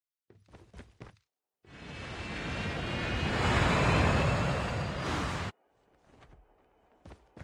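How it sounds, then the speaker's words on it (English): Airdrop plane in the Call of Duty Mobile battle royale game sweeps overhead with a loud swelling engine roar for about four seconds, then cuts off abruptly, surrounded by brief footsteps and small clicks. "The airdrop is coming."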